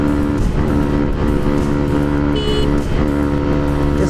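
A motorcycle's exhaust roars steadily and loudly while being ridden, a continuous throbbing drone close to the rider with slight dips in pitch, heard alone without talk.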